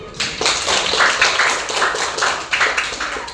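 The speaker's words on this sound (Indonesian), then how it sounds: "Oke, tepuk tangan dulu." An audience claps during an academic supervision coaching session, with close, loud, fairly dense applause that continues steadily throughout.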